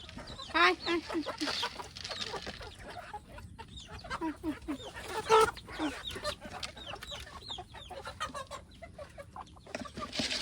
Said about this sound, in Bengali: তাহলে তো তোমার অনেক মুরগি।